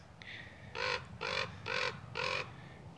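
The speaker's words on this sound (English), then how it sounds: "This could be a raven. It's much bigger than... than the little crows over there?" A large raven calls four times in a steady rhythm from open summer grassland on a hill, each caw loud, harsh and clear, with a softer note before the first, and no talk.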